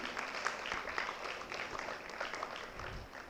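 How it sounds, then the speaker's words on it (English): Audience applause at an award event honouring a top exam scorer, a steady wash of clapping filling the room at moderate loudness for the whole stretch. "You can give a big round of applause to her."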